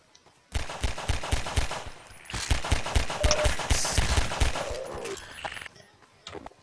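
Video game gun firing in rapid bursts, loud and close, with dense repeated shots running through most of the stretch and short pauses between volleys.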